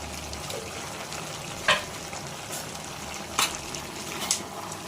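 Mixed vegetable pachon sizzles steadily as it fries in a pan, with a few sharp scrapes and clinks of a spoon stirring through the vegetables, close up and with no talking.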